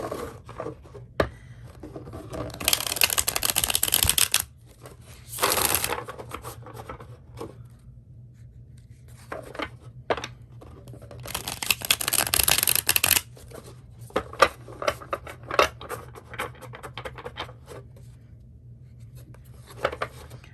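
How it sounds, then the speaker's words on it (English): Close riffle shuffles of a thick, stiff tarot deck, several loud bursts of flapping cards separated by quieter handling and soft tapping. "So let's see how it shuffles."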